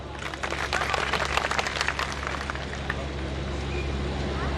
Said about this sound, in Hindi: बड़े भाई सिकंदर यादव के लिए जोरदार तालियां।